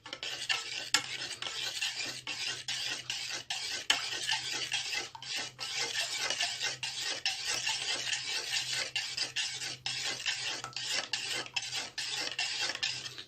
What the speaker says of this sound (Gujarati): આને બરાબર મિક્સ કરી લઈશું